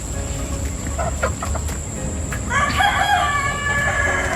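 Chickens on rural land in Lodlod, Batangas: soft clucking over a low, steady background, then a loud, close rooster crow with a long drawn-out call near the end.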